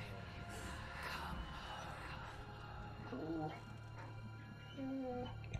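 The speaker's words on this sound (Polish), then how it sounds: "Pieseczek." A dog whimpers and yips softly in Marvel's Midnight Suns, with a few thin whines near the end over a low steady game hum and quiet background voices.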